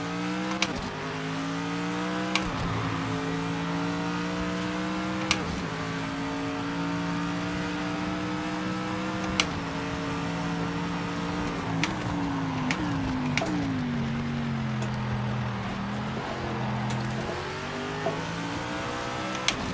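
A Mercedes GT3 race car in a racing video game: a steady engine drone that climbs and falls through gear changes over and over, with brief sharp shift clicks, continuous and moderately loud, with no voices.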